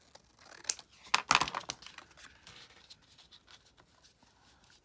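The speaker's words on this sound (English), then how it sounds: "So let's just cut a piece off." Scissors cut a piece of paper for a craft layout, a close cluster of crisp snipping and rustling around the second mark, then quieter light handling of the material.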